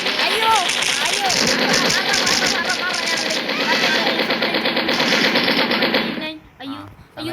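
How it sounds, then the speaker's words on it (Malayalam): Rapid automatic gunfire from the mobile shooter game Mini Militia while the player's character flies, a dense, continuous burst of loud shots running for about six seconds before cutting off, with game effects and possible talk underneath. "നമ്മൾ വെടിവെച്ചുകൊണ്ട് പറക്കുന്നു"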